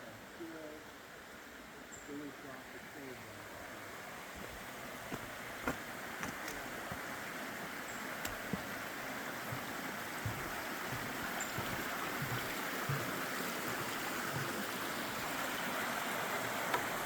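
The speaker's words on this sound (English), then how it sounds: "There's quite a bit of water coming down through the creeks." Gales Creek running high after recent rain near a trail junction in the Tillamook State Forest, a steady broad rush of flowing water, fairly faint and constant, with a few faint clicks over it and no speech.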